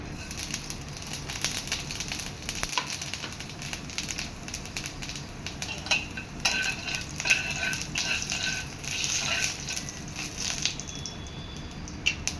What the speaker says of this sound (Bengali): আমি আঁচ কমিয়ে যে সোয়াবিনের পেস্টটা দিয়ে দিলাম।